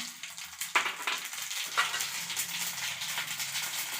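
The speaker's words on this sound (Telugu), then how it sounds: "ఆయిల్ కాగింది కాగిన వెంటనే తిరుమాత జీలకర్ర ఉద్దిపప్పు ఆవాలు వేస్తూ ఉన్నాను" Cumin, urad dal and mustard seeds fry in hot oil with a close, crackling sizzle, sharp pops standing out at intervals over a continuous hiss.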